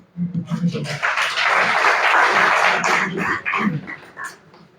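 Enthusiastic audience applause at a mushaira poetry gathering welcoming a poet to recite, a thick burst of clapping with voices and scattered shouts mixed in, fading toward the end.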